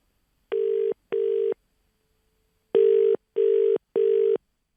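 Telephone ringback tones sound during a call transfer between New Zealand numbers: two short electronic beeps, a pause, then three more, clean and steady at moderate volume with nothing else heard.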